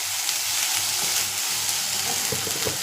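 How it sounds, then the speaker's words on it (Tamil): Onions fry in a pan with a dense, steady sizzle and crackle throughout, close and fairly loud, with a few faint scraping touches near the end. "இப்போது நல்லா வெங்காயம் நல்லா வதங்கி வந்துருக்கு பாருங்கள்."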